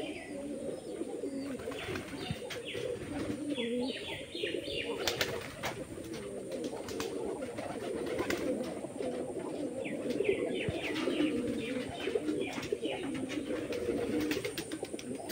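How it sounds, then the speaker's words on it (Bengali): Several pigeons in a rooftop loft coo in soft, repeated throaty phrases close by, with light chirps and faint flutters in the background. "দেখেন না কবুতর কিভাবে ডাকতেছে।"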